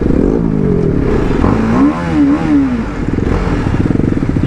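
A motorcycle rides through a busy market in Baliyapur, Dhanbad, its engine droning loud and close throughout, with a brief horn-like tone near the middle.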